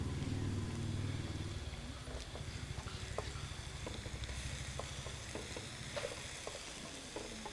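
Curry leaves crackle and sizzle in hot oil in a pan while cooking bottle gourd thoran. The frying runs steadily, with scattered sharp pops and a low stirring rumble throughout.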